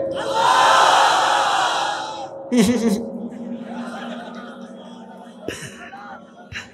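A crowd of married men at a Bangladeshi waz religious gathering shouts together in answer to a takbir call, a loud massed roar that fades and then gives way to a voice speaking over a sustained hum.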